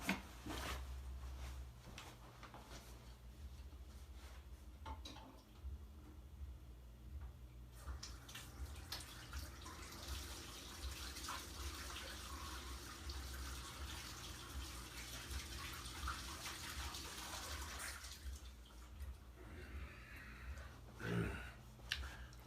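Kitchen sink tap runs steadily for about twenty seconds, a continuous close gushing splash of water into the basin, with faint clinks near the end and no talking.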